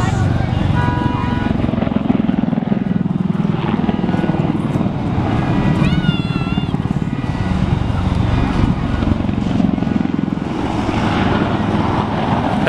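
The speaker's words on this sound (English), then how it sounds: "We got a helo coming by." A helicopter flies past at an airshow, its loud rotor and engine roar sustained throughout, mixed with crowd noise and people talking nearby.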